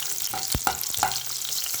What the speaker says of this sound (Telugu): ఇంకా ఆనియన్స్ అలాగనే కరివేపాకు వేసుకొని బాగా ఫ్రై చేస్తున్నాను.